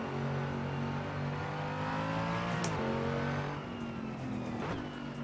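Engine of a Mercedes race car in a sim racing game drones loud and steady, its pitch sliding up and down through gear changes and revs.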